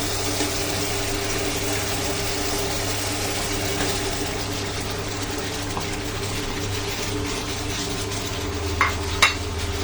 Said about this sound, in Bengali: এই মশলার সাথে এখন আলু আর পেঁপেটাও কষানো হবে